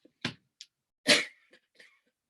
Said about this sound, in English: I am so sorry about the coughing.